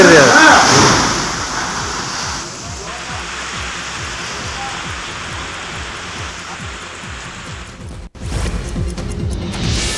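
Heavy rain lashes down with strong wind in Vijayapura, a steady dense roar of downpour lasting throughout, louder at first, with a brief dropout near the end before the rush resumes.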